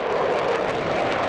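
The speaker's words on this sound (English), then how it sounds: "a jet flyover," A military jet flying over a cemetery during a military funeral, a steady, loud roaring rush of engine noise that fills the whole short moment without any voices.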